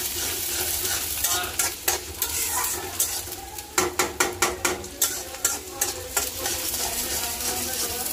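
Food frying and sizzling in a pan while a utensil stirs and scrapes against it, a steady hiss broken by repeated clinking strokes in an irregular rhythm, close and fairly loud, with no talk.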